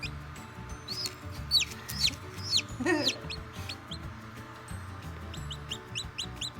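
Newly hatched chicks in an incubator give a quick series of close, high peeps and chirps over a soft low rumble of movement, growing busier toward the end.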